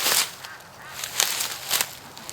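Free-range ducks give several short, sharp honking calls close by, a few spaced bursts in under three seconds while the birds are led to water.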